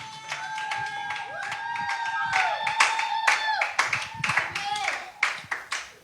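A church congregation claps during a worship service, sharp rhythmic claps in a steady beat under sustained singing or organ-like tones that grow louder toward the end.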